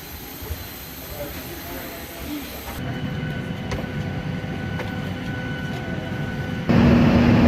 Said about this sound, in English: They have trains that go to different sections.